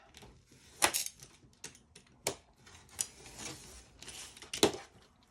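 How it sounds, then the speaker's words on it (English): Scissors trim the top edge of a tea towel fabric for a project bag, making a few sharp, close snips and crisp fabric rustles spaced irregularly in a quiet room. "And then now I'm going to trim the top."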